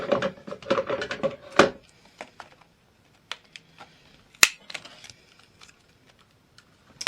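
A burst of crisp mechanical clicks and crunches from a corner punch rounding paper corners, then scattered sharp snaps and clicks spaced out across a quiet background.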